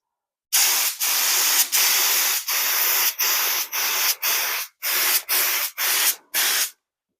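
Clear coat sprayed onto a 1979 Corvette during paint chip and crack repair: about ten close, loud bursts of spray-gun hiss, each a second or less, separated by short pauses, with no talking.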